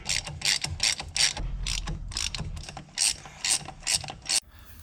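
Ratchet with a deep socket loosening the four hub bolts on a Dodge Dart wheel bearing hub, rapid clicking strokes repeated in rhythmic bursts, close and loud over a low rumble.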